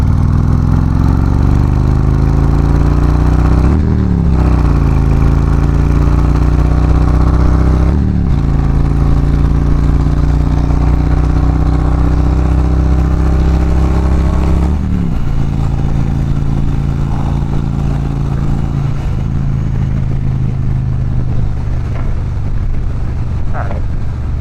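Harley Davidson Touring motorcycle running loud and close, engine climbing in pitch then dropping at each shift as it goes quickly through the gears, someone speaking over it.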